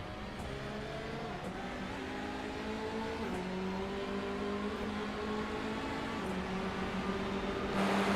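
Touring race cars lapping the Nürburgring in the iRacing sim, a steady engine drone with pitch climbing through gear changes, sustained and fairly loud with no talk.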